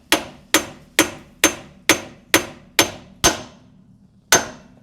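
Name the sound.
hammering Ford Expedition rear axle seal until it bottoms out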